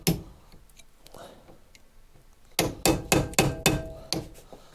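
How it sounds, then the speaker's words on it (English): Sharp metallic hammer strikes on a 4mm drift punch driving out Lotus Evora front brake pins ring out, one early tap and then a quick series of about six hard blows in a steady rhythm, close by. "Sometimes you need a good whack with a hammer."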